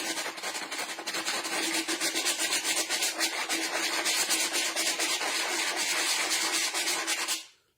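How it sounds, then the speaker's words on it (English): Sandpaper scrubs rapidly back and forth across the bottom of a bottle, a dense, close rasping that runs steadily for several seconds before stopping abruptly. "I've got a little bit of sandpaper because E600 suggests you rough up the bottom of it"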